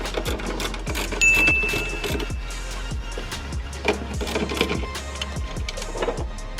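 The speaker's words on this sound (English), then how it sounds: "It's gonna be a 13 mil. Unscrew these 4 nuts." Rapid, steady mechanical clicking from a tool unscrewing four 13 mm nuts on the stabilizer bar of a BMW E46 M3, close and moderately loud with no talking.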